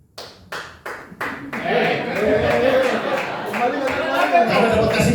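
Four sharp hand claps ring out at a steady pace in a church hall, then give way to a lively murmur of chatter and light laughter from the crowd.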